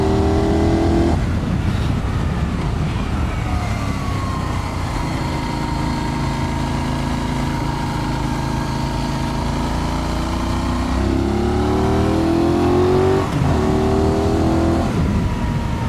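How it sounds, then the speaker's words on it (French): A Benelli 752S motorcycle engine roars continuously and loudly, its pitch rising and falling as it accelerates and shifts through gears, with no voices. "le bruit sonore de cette moto est vachement sympa"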